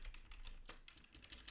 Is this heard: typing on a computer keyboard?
yes